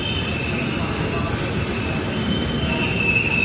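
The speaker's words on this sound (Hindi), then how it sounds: "हमारी विक्रमशिला एक्सप्रेस" Vikramshila Express (12368) running on the rails produces a loud continuous rumble with high, sustained wheel squeal, heard close from onboard.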